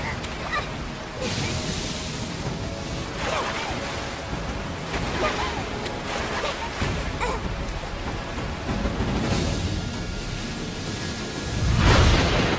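Steady heavy rain hisses throughout, with low rumbles building near the end like thunder, loud and continuous with no voices.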